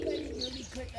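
Pigeons coo briefly and softly close by, with a low throaty murmur and faint chirps, partly under a person talking.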